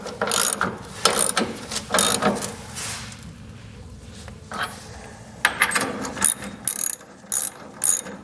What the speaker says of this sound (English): These larger bolts, a 15/16 socket will do the trick. Just get these ran down a little ways.